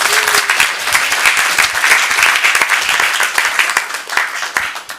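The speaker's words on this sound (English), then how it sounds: "So give yourselves another round of applause." At a Burbank Board of Education meeting, students and parents give a full, loud round of applause, many hands clapping densely and continuously close by with no talking over it.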